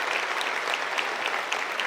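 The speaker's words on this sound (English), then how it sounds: "can I get a round of applause for all of our staff, all of our supporters, everybody involved" Quiet, steady applause from an audience at a 2024 Lorcana championship event opening, a soft continuous patter of many hands heard from a distance.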